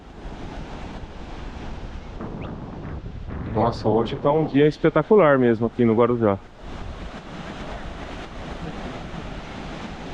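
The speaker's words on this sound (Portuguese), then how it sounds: "O mar com ondas aí mais fracas aqui no raso, uma delícia aqui para entrar no mar." Gentle sea waves wash onto the shallows at Praia da Enseada beach in Guarujá, a soft continuous surf hiss with light wind, briefly under someone speaking in the middle.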